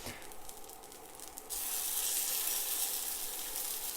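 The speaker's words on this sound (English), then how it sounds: "that's why I'll be putting these patties around the sides, around the edge there," Vegan hummus patties fry in a pan of hot oil, a steady close sizzle that jumps louder partway through as more patties go in and then holds at a bright, continuous hiss with no talking.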